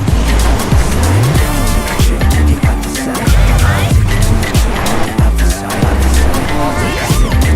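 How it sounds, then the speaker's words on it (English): A 2022 Honda HR-V (Vezel) is driven hard, with a loud, continuous engine roar and repeated sweeping tire squeals and skids up close. "It's really smooth driving, really easy to maneuver."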